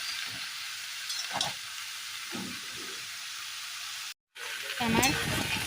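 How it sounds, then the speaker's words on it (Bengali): Mixed vegetables with potato being stir-fried with panch phoron and ginger in a wok over medium flame, giving a steady sizzle broken by several scraping stirs of a spatula, close by, with a brief dropout near the end. "সবজিটাকে পাঁচফোড়ন আর আদার সাথে খুব ভালোভাবে নাড়াচাড়া করে নিতে হবে বেশ কিছুক্ষণ।"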